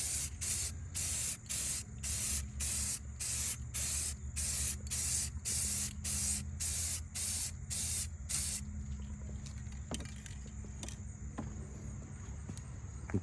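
An aerosol can sprays light coats onto factory car rims in a quick series of loud hissing bursts with short gaps between, then stops, leaving a quiet background with a few small clicks and taps.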